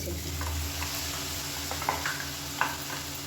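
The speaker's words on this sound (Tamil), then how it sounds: "இந்த எண்ணெயில் வந்து இந்த மசாலா நல்லா அப்படியே பரட்டி விட்டுருங்க." Ground masala paste sautéing in hot oil gives a steady, close sizzle with faint stirring scrapes and a couple of light utensil clicks throughout.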